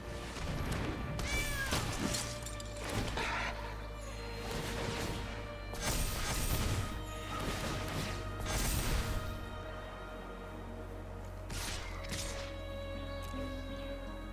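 A cat meows several times in a digital card game, the calls mixed with thumps and crashing game effects over a continuous musical bed.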